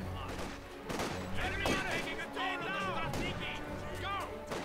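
Rifle and machine-gun fire rattle in bursts through a Company of Heroes 2 winter battle, with sharp cracks and impacts layered over loud, continuous combat noise, while voices talk over it.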